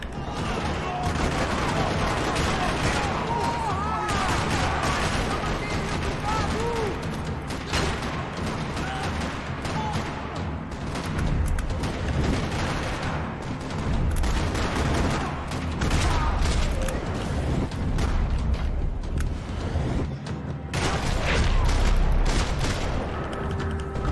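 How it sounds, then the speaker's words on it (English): Sustained gunfire rattles across a parking lot in the video game Max Payne 3, with dense overlapping bursts and booms continuing loudly throughout. "Another parking lot rattling with gunfire."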